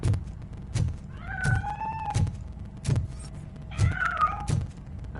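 A cat in the Robocop Rogue City video game meows twice in drawn-out, rising calls, set against a steady run of dull thumping footsteps or impacts with no talk.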